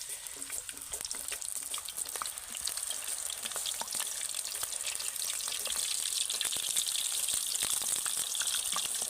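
Raw potato slices frying in hot oil for crisp chips, a close, steady bright sizzle with dense crackling pops that grows slightly louder toward the end, with no voices.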